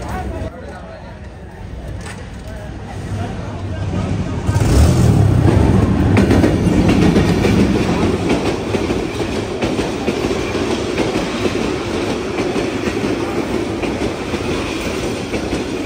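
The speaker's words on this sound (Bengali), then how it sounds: "ট্রেন আসছে, এই লাইটটা খুব সুন্দর লাগে দূর থেকে দেখতে" A train approaches and rolls into a station nearby, the rumble swelling suddenly into a sustained clatter of wheels on rails.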